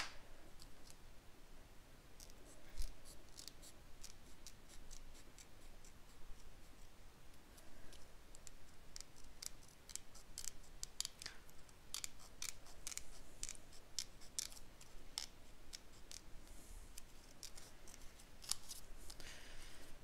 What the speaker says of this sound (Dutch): Dan moet je echt even goed losknippen.